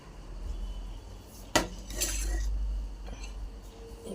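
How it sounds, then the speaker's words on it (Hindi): Dishes being put away in a home kitchen: a sharp clink of crockery lands near the middle, followed by a brief rattle of plates and utensils, then quieter handling against a steady low background hum. "पहले बर्तन रख कर आती हूँ।"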